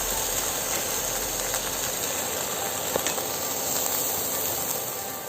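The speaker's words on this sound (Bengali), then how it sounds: "আমি কয়েকটা চাপা শুটকি একটু তেলে নিচ্ছি।" Five pieces of pressed dried fish fry in oil, giving a steady, close, broadband hiss and crackle that runs evenly throughout with no talking.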